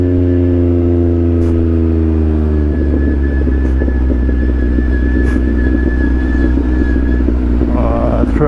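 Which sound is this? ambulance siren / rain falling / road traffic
road traffic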